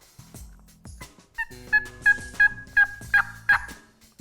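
A diaphragm mouth call imitates a wild turkey with a series of about seven high-pitched, evenly spaced yelps, clear and close, after a few softer lower notes.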